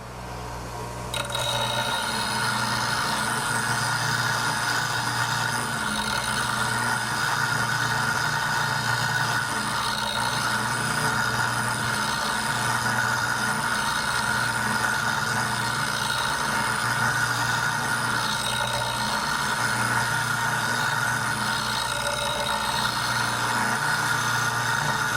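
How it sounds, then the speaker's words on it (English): A bench grinder fitted with a Oneway Wolverine Vari-Grind jig runs while sharpening a woodturning gouge. The motor starts up and then holds a steady, loud, continuous hum and whine, with no pauses. "I'm just going to grind the other side."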